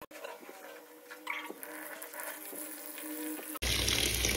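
Towels being dunked and swished in a sink of detergent water, a steady watery sloshing close by that ends in a sudden louder rush of running water.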